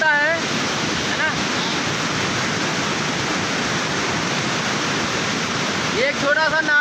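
Rainwater roars through a small flooded drain in Lucknow after heavy overnight rain, a loud continuous rushing torrent close by, with faint voices at the start and end.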